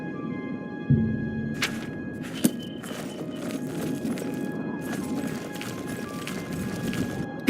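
Horse hooves clip-clopping in a fantasy role-playing game stable yard, a steady walking rhythm of light knocks with a few sharper hits, moderately near over a faint ambient drone.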